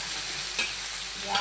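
Chopped onion sizzles steadily in a hot pan as it is sautéed, with two soft scraping stirs cutting through the constant frying hiss, close and alone with no talk.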